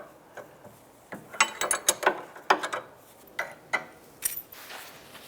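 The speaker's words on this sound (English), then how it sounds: "we'll go ahead and try and loosen this inner tie rod" A tool working loose the inner tie rod on a 2011-2019 Ford Fiesta, giving a quick run of close metallic ratchet clicks in bursts, then scattered clicks and taps.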